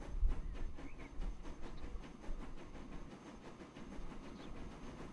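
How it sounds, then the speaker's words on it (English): A train rolls along in the Transport Fever 2 game with a steady low rumble and regular rhythmic clicking, fairly faint, with no voices. "Okay, train ahead is moving."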